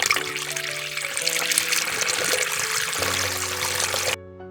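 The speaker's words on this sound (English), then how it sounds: "Then I am going to add 1/4 cup of water." Water pours into a pan holding sugar for gram flour ladoo syrup, a steady close splashing gush lasting several seconds before stopping abruptly, with a faint background hum.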